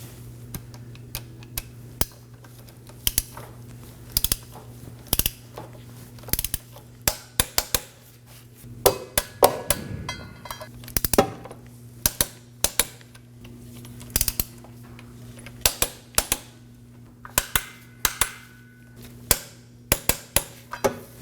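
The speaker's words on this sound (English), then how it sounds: "we're also going to tighten them to 27 foot-pounds in an alternating pattern" Driveshaft bolts on a 2013-2022 Chevrolet Trax being tightened with a torque wrench, sharp close metallic clicks coming in short irregular bursts over a steady background hum.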